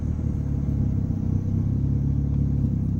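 A turbocharged Mazda 3 with a faulty MAF sensor cruises at light throttle, giving a steady low engine hum and road rumble from inside the cabin, with no talking.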